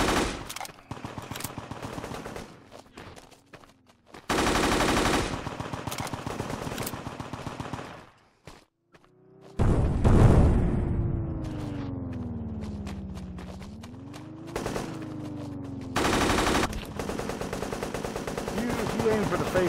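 Sten submachine gun fire in the D-Day shooter game Honor and Duty, with loud sustained automatic bursts that cut in and out, mixed with other game sounds and a player talking.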